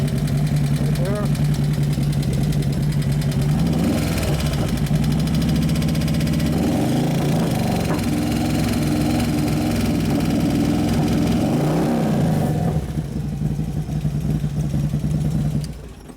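The twin cam engine of a 2011 Harley-Davidson Road Glide FLT with a suspected internal noise runs steadily at idle, giving a continuous throbbing rumble with mechanical clatter and small revs around the middle, fading slightly near the end.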